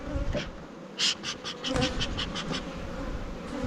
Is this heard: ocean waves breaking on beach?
no